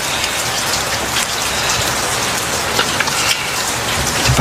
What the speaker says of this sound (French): Il s'est mis à pleuvoir. D'un coup, un rideau de pluie.